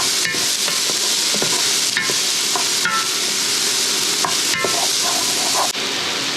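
Garlic and onions stir-frying in olive oil in a pan, a loud, close, continuous sizzle broken by repeated sharp scrapes and clacks of a utensil stirring, with no talking.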